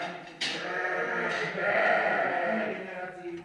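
Dorper sheep bleating nearby at a sheep farm, a long drawn-out wavering bleat followed by a softer one, with faint background noise.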